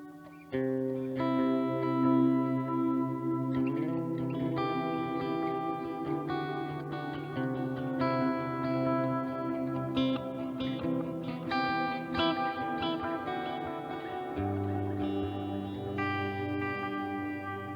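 Sustained electric guitar chords and notes through a Line 6 Helix, washed in delay and reverb, with echoes smearing into a thick, shimmering ambient texture that rings continuously.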